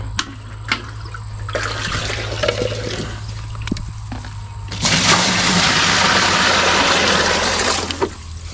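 Water gushes and splashes into drums, growing louder and more turbulent partway through, with a low steady engine hum underneath.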